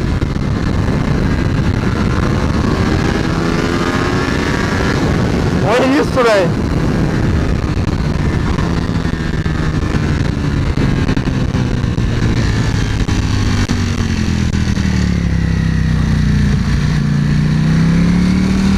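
Ducati Panigale V4 S sportbike revving and pulling hard on a street test ride, its engine loud and close under steady wind roar, rising in pitch toward the end while someone talks briefly.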